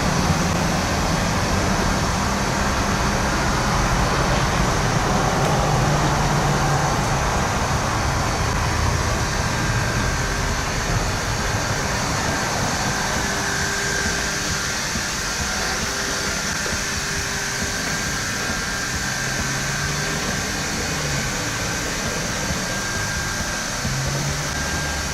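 A Luba 2 robot lawn mower drives and cuts grass outdoors, its steady motor and blade whir running continuously and loudly throughout with no talk.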